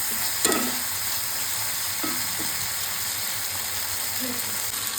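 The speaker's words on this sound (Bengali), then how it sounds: "এবার ঝোল দিয়ে দিলাম, ঝোলটা একটু ফুটে এলেই মাছগুলো ছেড়ে দিব।" Broth goes into a hot frying pan for a katla fish curry, setting off a steady, close sizzle with a few faint clinks and scrapes early on.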